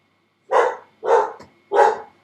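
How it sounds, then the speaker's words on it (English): Poppy, a pet dog, gives three loud, close, evenly spaced barks indoors in a quiet room, each bark short and sharp with brief silence between. "I don't know what she's barking about."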